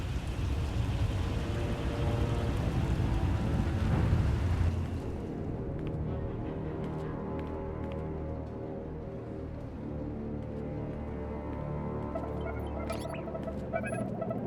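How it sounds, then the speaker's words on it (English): Stormy weather in the video game Star Wars The Old Republic: a loud, steady roar with deep rumbling, swelling around four seconds and then continuing at a slightly lower level, with faint crackles throughout. "Looks like the storm's not letting up anytime soon."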